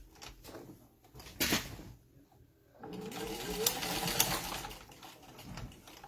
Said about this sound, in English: I'm going to put some stitches just to hold it in half.